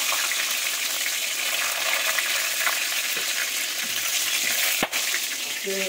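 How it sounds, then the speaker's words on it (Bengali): Bay leaf, dried red chili and tomato sizzle and fry in hot tempering oil, a steady loud crackling hiss throughout with a sharp pop near the end. "এই যে তেজপাতা আর শুকনো লঙ্কা দিয়ে দিলাম ফোড়নে, টমেটো দিয়ে দিলাম"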